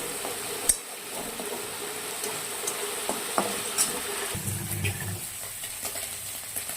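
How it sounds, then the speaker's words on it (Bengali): Prawns frying in a pan, giving a soft, steady sizzle with a few sharp clinks of a utensil against the pan and a stir near the end, with no talking. "দেখি ততক্ষণে চিংড়ি মাছটা ভাজা হচ্ছে।"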